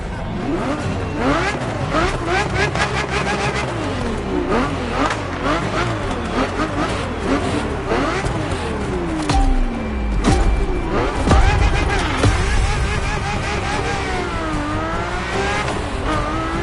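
A Ferrari F50 driven in the racing game The Crew Motorfest, its engine revving loud and close, rising and falling through gear changes with brief tire squeal, continuous throughout.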